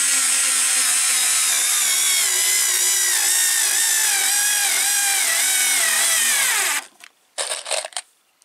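A SKIL model 2710 screwdriver drives screws with a loud, sustained whining motor that strains and drops in pitch as the screw seats, then stops, followed by a few short rattling clicks.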